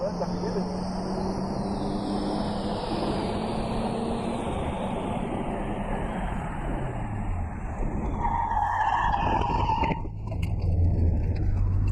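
Tires squeal as a car slides through a curve, engine roaring steadily throughout, loud and close, with a sharper screech near the end.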